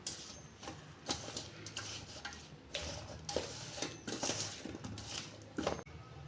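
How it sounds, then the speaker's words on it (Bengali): Sour yogurt and mustard oil being mixed by hand into food for a potato, pointed gourd and egg dish, with repeated soft squelching and sticky slaps in an irregular rhythm, close and fairly quiet, with no talking. "এটা আমি হাত দিয়ে ভালো করে মেখে নেব।"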